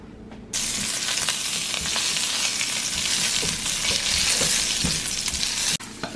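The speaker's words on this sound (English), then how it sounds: "So this is the way we cook our asparagus." Asparagus fries in sesame oil in a pan, giving a steady, loud sizzle that starts abruptly and runs unbroken for several seconds with small crackles and pops, then cuts off near the end.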